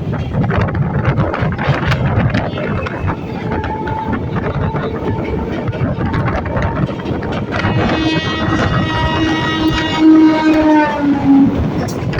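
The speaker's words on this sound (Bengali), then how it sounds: "আমাদের ট্রেনটা এই মুহূর্তে ঢুকছে বাঁশবেড়িয়া স্টেশনে" A local train rumbles and clatters steadily, then slows with rising brake squeals and whining tones as it enters Bansberia station on the Sealdah–Katwa line; close and loud, no talking.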